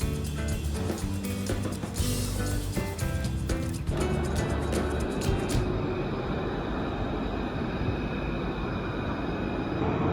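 A tram rumbles past nearby on city rails in Strasbourg, France, with rhythmic clacking and metallic squeals early on, settling into a steady low rolling roar.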